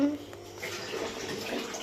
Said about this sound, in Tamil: ஃபுல்லா அப்படியே ஊத்துறோம்.